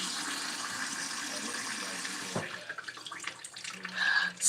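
Water gushes steadily from a tap, then cuts off partway through, leaving quieter drips and splashes.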